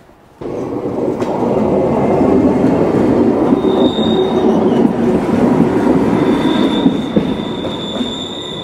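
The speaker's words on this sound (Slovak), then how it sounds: "Ide vlak. Poďme pozrieť vlak." A train rumbles steadily past close by in the Chamonix valley, with continuous rolling wheel noise and occasional high metallic squeals.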